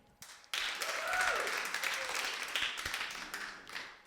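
Comedy club audience at a Kazakh stand-up show breaking into applause: a scattered burst of clapping swelling quickly and tapering off over a few seconds, fairly faint and distant.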